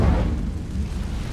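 Incendio fire spell cast in Hogwarts Legacy, a short dense roaring whoosh of flame, loud and full, holding steady for about a second and a half.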